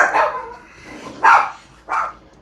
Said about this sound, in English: this is why I have these constant barks in my recordings